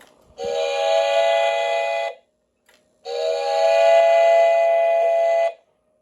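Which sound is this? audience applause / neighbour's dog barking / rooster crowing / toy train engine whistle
toy train engine whistle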